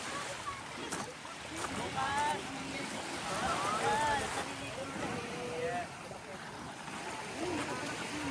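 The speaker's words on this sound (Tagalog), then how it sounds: "Andito kami ngayon sa tabing dagat." Seaside waves at a beach wash and rumble steadily beneath people chatting and calling out during a family outing, with wind noise and the surf swelling and easing throughout.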